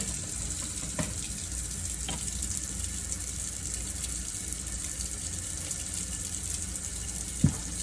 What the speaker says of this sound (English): put the rest of it in the sink with cold water